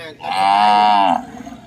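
Cattle at a livestock market in Ban Khok Charoen give one loud, close moo lasting about a second, rising from quiet murmurs and fading into soft market background.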